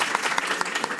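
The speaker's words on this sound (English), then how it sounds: "can we just have a big round of applause for you all?" Brief burst of audience applause, many hands clapping densely and fairly close, with no voices over it.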